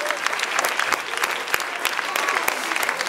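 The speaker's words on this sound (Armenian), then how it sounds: "Ծափարում ենք այս զույգին, Սոնա եւ Էմանուել" A studio audience at a dance show applauds a couple, dense continuous clapping close and lively throughout, with a few voices faintly mixed in.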